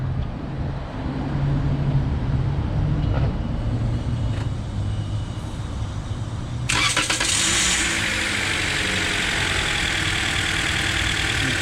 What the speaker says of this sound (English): Now it's time to start the car.